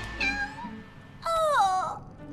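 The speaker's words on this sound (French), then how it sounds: "Oh, c'est un mignon petit chaton." A cartoon kitten gives two clear, high meows: a short cry, then a louder, longer drawn-out mew after a brief pause, with no talking over it.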